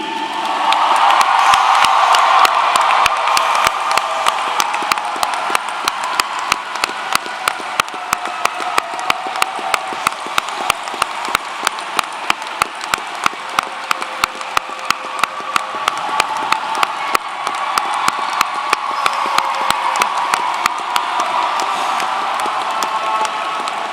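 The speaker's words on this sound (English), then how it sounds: "parents, family, friends, and staff, please join me in applauding the class of" Sustained applause and cheering from a graduation ceremony crowd honoring the 2022 class at a technical center, steady dense clapping with occasional whoops for the full stretch.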